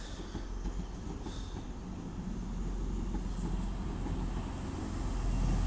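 Class 185 TransPennine Express diesel multiple unit running through Stockport station on the West Coast Main Line, a steady low rumble of engines and wheels that holds strong and close throughout, with no talk.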